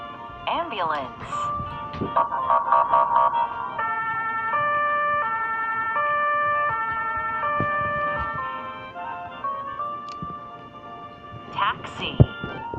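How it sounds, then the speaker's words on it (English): Ambulance siren wailing in a steady two-tone pattern, fairly loud and continuous for most of the stretch, with a few brief vocal sounds at the start and end. "Ambulance."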